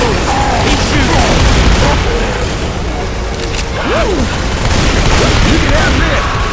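Gunfire in the zombie shooter Left 4 Dead 2 during The Passing campaign, loud bursts and booms mixed with constant game noise and shouting voices throughout.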